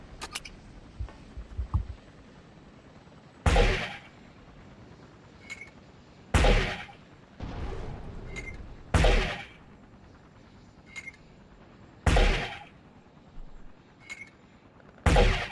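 Mortar rounds are fired and explode around a temple in Battlefield Vietnam: sharp booming blasts repeat every couple of seconds, each with a short rumble, and faint pops and chirps sound between them.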